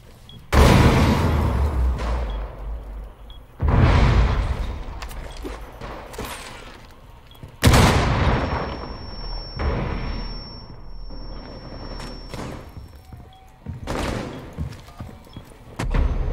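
Explosions in the video game Rainbow Six Siege: several heavy booming blasts spaced seconds apart, each followed by decaying rumble and debris, loud and close, with scattered thuds between.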